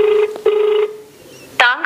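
Repeated ringback tone from a phone call that goes unanswered, sounding in steady bursts with short gaps, followed by a brief bright electronic chirp at the end.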